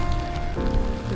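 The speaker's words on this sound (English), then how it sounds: "Loving life in the rain." Steady rain falling at night on a city sidewalk, a dense, close hiss of drops on the ground that fills the short moment without pause.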